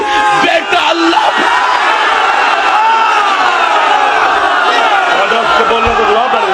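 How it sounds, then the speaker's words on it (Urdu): A crowd of thousands at a religious gathering roars its approval, a dense, continuous wall of cheers, shouts and whoops that stays loud and steady throughout. "یہ ہزاروں کا مجمع ہے سب کے سامنے، اور سب داد دے رہے ہیں"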